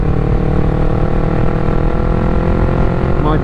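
A Yamaha MT-03 motorcycle pulls from 40 to 80 in sixth gear, its engine drone loud and steady with a slowly building tone under heavy wind rush.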